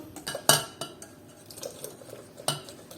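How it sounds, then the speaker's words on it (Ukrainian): A whisk clinks and taps against a bowl in quick irregular strokes, with a few sharper knocks, close by, beating eggs, milk and flour into a batter. "збиваємо вінчиком, тобто весь час помішуємо, щоб не було грудочок"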